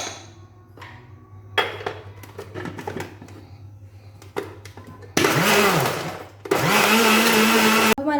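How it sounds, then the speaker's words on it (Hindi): A kitchen grinder blends plums and tamarind pulp in two loud whirring bursts near the end. Before them come scattered clatters and light handling knocks, with faint speech in the background. "हमारा आलू बुखारा और इमली ग्राइंड हो चुकी है।"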